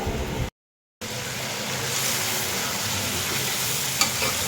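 Pumpkin pieces with skin on sizzle and fry steadily in a pan after a brief silence, a loud continuous crackle with a light scrape of stirring near the end.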